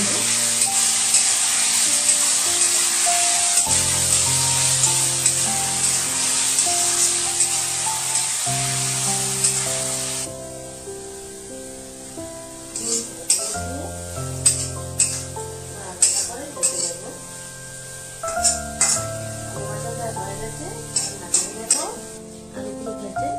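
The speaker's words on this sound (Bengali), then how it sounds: "ভালো করে ভেজে নেব" Potatoes frying in hot oil give a dense, loud sizzle for about ten seconds. A quieter stretch follows, with intermittent clinks and stirring scrapes, over a sustained tonal hum throughout.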